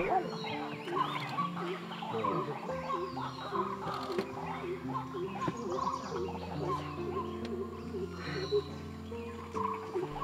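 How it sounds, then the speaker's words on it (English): A white-breasted waterhen gives a steady chorus of harsh, repeated calls, loud and continuous, with cackling notes overlapping throughout and no pauses. "The intermittent noise we hear is that of a white-breasted water hen"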